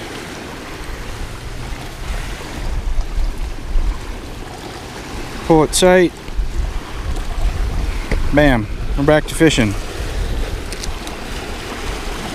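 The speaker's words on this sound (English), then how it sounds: "It's so loud with the waves, I just really can't hear anything." Waves wash against a riverbank while wind buffets the microphone during bank fishing for channel catfish, a constant rough roar with someone talking briefly over it.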